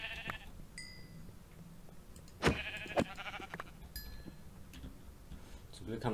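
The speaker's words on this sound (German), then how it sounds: "aber wir haben hier Schafe." Sheep bleating in Minecraft (FTB Beyond modpack), a few short game bleats over quiet background with occasional clicks and a low voice talking.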